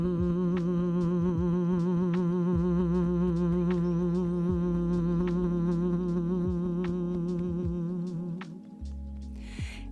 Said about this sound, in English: I'm going to invite you to do a little bit of humming, simply closing the lips together and allowing sound just to circulate inside of your mouth.